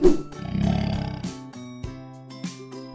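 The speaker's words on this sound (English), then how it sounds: "Lion." A lion roars loudly and up close, a deep throaty rumble followed by shorter grunting calls, with musical tones underneath.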